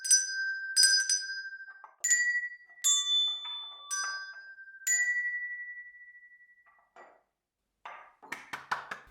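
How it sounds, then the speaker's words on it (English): Bells struck one at a time play a slow, simple melody, each clear ringing tone decaying before the next, ending in a few quick lighter taps. "ask them to play the melody for you using the bells"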